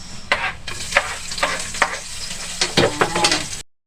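Onion sizzling and frying in a pan during cooking of a crab dish in coconut milk, with steady sizzle broken by repeated stirring scrapes at a close, moderately loud level.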